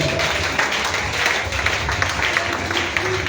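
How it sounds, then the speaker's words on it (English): Church congregation clapping together in a loud, steady wash of applause that fills the whole stretch, with voices mixed into the crowd noise. "If you believe it, clap for Jesus and the sister."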